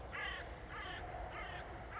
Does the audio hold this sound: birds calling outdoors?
yes